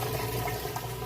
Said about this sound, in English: You can hear it draining there.